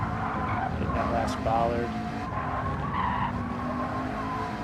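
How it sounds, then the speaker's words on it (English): Race car in a racing video game braking hard into a corner, its tires skidding and squealing over a steady engine drone, with someone talking throughout. "Now we're braking at the ass end of the ass end even with the 100 board."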